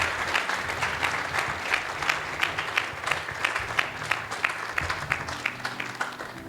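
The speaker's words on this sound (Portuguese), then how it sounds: "Let's give hand a clap offering to God." A church congregation claps as an offering during a Sunday service, a full, continuous round of applause with some crisp individual claps standing out, holding steady for several seconds.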